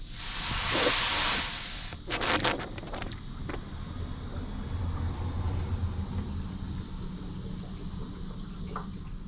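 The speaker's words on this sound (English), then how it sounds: "You can hear the air coming out of it." Air hissing out of a bleeder on a BMW E82 drift build's cooling system, a close, loud rush in the first seconds followed by sputtering bursts and a lower steady hiss.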